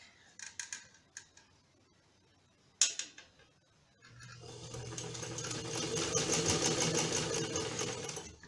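A domestic sewing machine doing straight stitching, run by pressing the foot pedal: a few sharp clicks and taps, then the motor starts and runs steadily, getting a little louder as it speeds up, close by.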